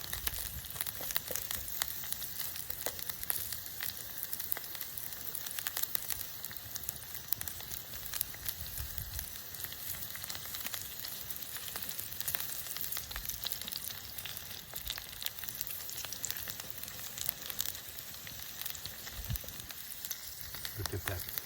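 Cauliflower and carrots sizzle steadily over an open fire grill on a Flame Master grid holder, a dense continuous crackling hiss that stays close and even throughout with occasional louder pops.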